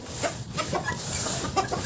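Chickens cluck in a farmyard in short, close bursts, with several overlapping hen calls over a low background rumble.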